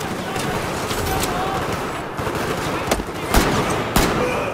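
Gunfire and impact cracks in the video game Battlefield 4, several sharp shots over a steady dense battle bed, with a person talking over it throughout.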